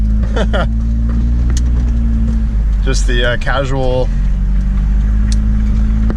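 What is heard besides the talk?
car driving to the gym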